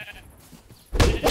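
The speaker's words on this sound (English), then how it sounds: "Sheep." A Minecraft sheep bleats in the video game, first a faint short call and then a louder, clearer bleat near the end, set against quiet game ambience.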